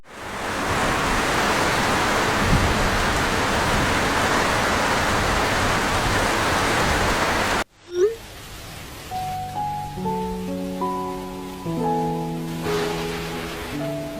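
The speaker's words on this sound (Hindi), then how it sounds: "ओह ये बारिश, ये तो रुकने का नाम नहीं ले रही।" Heavy rain pours as a loud, dense, unbroken hiss for about seven seconds, then cuts off abruptly and gentle melodic tones follow.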